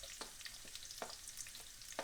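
Onions sizzling in a frying pan with golden ginger while cooking pork apritada, a soft steady crackle with small sharp pops and stirring clicks spaced irregularly, close and fairly quiet.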